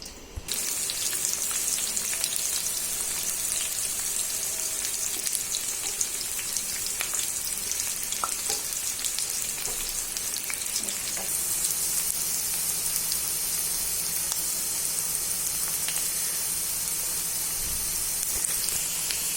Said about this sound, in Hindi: अब प्याज फ्राई कर लेंगे।